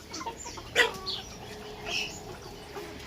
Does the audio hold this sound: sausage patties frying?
no